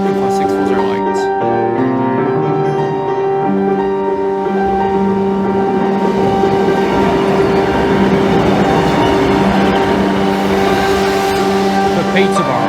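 A train rumbles steadily past the Brayford level crossing, loud and close, its engine tones and wheel noise filling the scene with constant clatter while someone talks over it.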